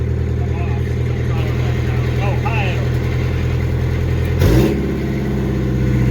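A Scenicruiser bus engine with an air throttle rumbles steadily near at hand and throttles up partway through, its low drone rising briefly before settling back, while people talk over it.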